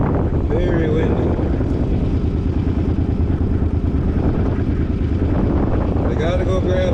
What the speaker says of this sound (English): Yeah, it's a very windy day.